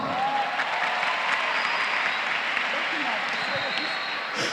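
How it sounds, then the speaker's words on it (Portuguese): A classroom audience claps together in a dense, sustained burst of applause that holds steady for several seconds, with voices mixing in under the clapping. "Carla, uma salva de palmas."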